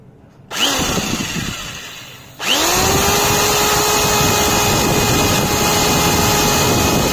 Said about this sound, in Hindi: तो ये बड़े आसानी से इसने इसको छेद कर दिया